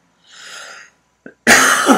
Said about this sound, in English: This will be the first of many coughs.